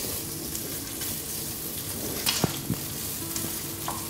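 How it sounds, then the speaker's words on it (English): Bacon sizzles in a teaspoon of olive oil in a pan, a steady close crackle with a few sharper pops and spits, no voices. "I'm going to add the bacon"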